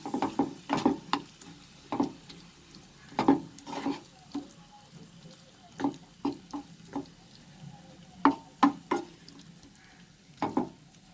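Cumin, coriander, garam masala, Kashmiri red chili and turmeric fry with tomatoes in a pan, a spoon scraping and stirring in irregular bursts over a quiet sizzle, close and moderately loud.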